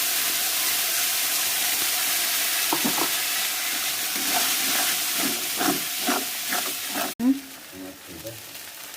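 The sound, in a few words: spice paste frying and being stirred in a pan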